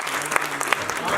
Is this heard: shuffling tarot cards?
no